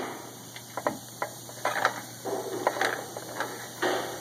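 A 1999 Ford ZX2 transmission gives off faint, irregular clicks and ratcheting ticks as the wheel is turned, close up against a quiet background hum.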